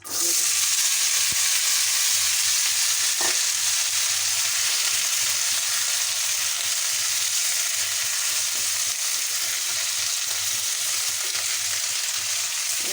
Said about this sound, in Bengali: এখন আমি এইখানেই সবজিটা ভেজে নিই